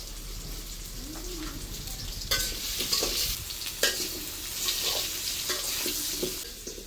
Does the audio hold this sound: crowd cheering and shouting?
no